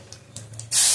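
Lentils tipped into hot oil with cumin and dried red chillies burst into a loud, steady sizzle that fills the last third, after a quieter stretch of faint frying crackle.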